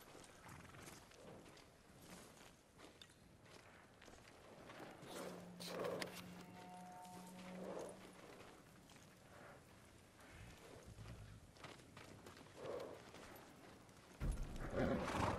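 Samurai horses from the video game Ghost of Tsushima clop their hooves steadily in a continuous dense patter, moderately loud, mixed with ambient game sound and a brief tonal whinny-like cue midway.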